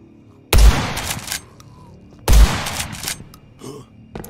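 Two loud gunshots from the video game Blood West, each a sharp blast with a short rumbling tail, spaced about two seconds apart.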